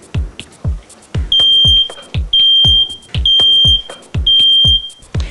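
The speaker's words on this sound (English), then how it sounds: "Simply hold down a button, and within a few seconds, you should hear a beep." A household smoke detector sounds its test alarm, loud piercing high-pitched beeps repeating in bursts, close by, with sharp thumping knocks in a steady rhythm beneath.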